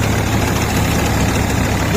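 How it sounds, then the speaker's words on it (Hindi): A new Swaraj 855 tractor engine powers a straw reaper, making a loud, steady, close diesel drone with heavy low rumble and broadband mechanical noise, unbroken and with no talk. "855 है तूड़ी बनाने वाली मशीन में चल रहा है भाई।"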